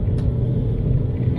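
Citroën C6 car at full throttle from inside the cabin, a deep, steady engine rumble and road drone holding loud and even throughout the short stretch.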